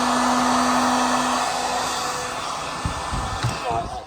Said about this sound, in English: I'm dropping the heat gun.